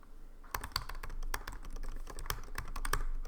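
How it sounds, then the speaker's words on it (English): Typing on a 2016 MacBook Pro keyboard with Touch Bar, a quick run of light, irregular key clicks with a few louder taps, close and fairly quiet, with no talking. "I'm gonna go on YouTube and just type in something."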